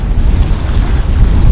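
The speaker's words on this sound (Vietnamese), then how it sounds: "Đây là chỗ nó xả nước này mọi người." Heavy low rumbling rush of water discharging from a very large ship at a river junction crowded with barges, loud and continuous with wind buffeting the microphone.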